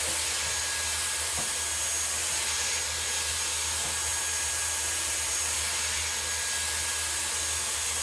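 Dyson Airwrap hair styler blowing hot air while smoothing wavy hair, a constant loud airy roar with faint brushing and rubbing textures underneath, close up and steady throughout, no talk.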